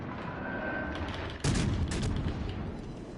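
Battleship guns firing HE shells in World of Warships Legends, a loud salvo bursting in at once with rumbling booms and crackling follow-up blasts, layered over a steady game background hum.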